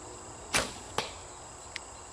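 Arrows strike a 3D archery bear target: three separate sharp thwacks, the first two loud and solid, the last a brief lighter tick, with quiet outdoor air between them.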